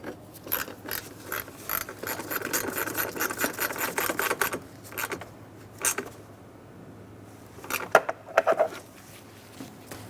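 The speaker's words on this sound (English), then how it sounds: "Snug the bolt down." A ratchet clicks in quick, close bursts while snugging down a bolt on a coolant reservoir during a 2003-2007 Honda Accord V6 3.0L alternator replacement, with brief pauses between runs of strokes.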